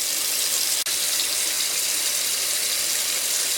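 Steady, loud running tap water as a processed quail is rinsed under the faucet, a constant hiss with one brief break near the start, no speech.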